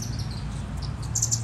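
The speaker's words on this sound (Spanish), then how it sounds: "Ese pajarito anda vuelto loco." Small bird chirping in a garden, short high tweets repeating faintly over a steady low background hum, growing a little denser toward the end.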